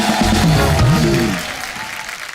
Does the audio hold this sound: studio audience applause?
yes